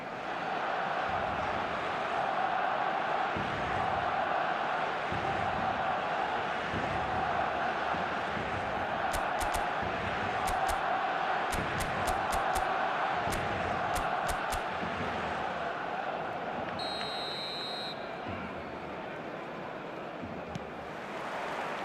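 An eFootball stadium crowd roars in a steady, dense wall of noise on match day, sustained throughout with a few faint higher tones breaking through.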